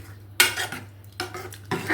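A spoon stirs jaggery into a bottle gourd curry in a metal pot, giving three short bursts of scraping and clinking against the pan, close and fairly loud with quiet gaps between.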